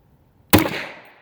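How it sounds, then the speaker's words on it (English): Single sharp gunshot from a Kel-Tec CMR-30 .22 magnum rifle fired at a steel target outdoors, a loud close crack with a short fading tail after a quiet moment. "I think I'm going to shoot that block."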